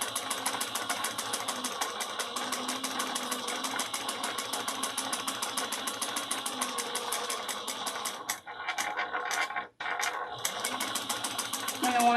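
A sewing machine runs fast and continuously, stitching a handbag at a long stitch length, its rapid mechanical chatter loud and close, pausing briefly near the end before starting again.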